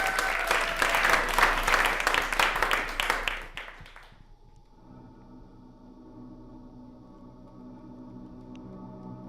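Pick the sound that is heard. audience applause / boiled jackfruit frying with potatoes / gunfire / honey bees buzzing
audience applause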